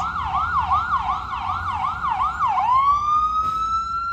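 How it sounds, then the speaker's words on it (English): An ambulance siren passing on a New York street, loud and close, wailing in a rapid rising-falling cycle, then switching to a long steady tone over road noise. "get out of the way of the ambulance"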